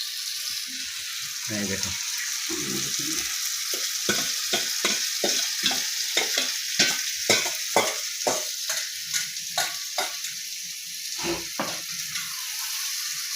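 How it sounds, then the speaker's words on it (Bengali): Meat is poured into spiced masala and fries in a pan: a constant loud sizzle with rhythmic stirring scrapes that grow steadier midway, and a brief voice near the start. "এই দেখো ঢেলে দিলে মাংসটা।"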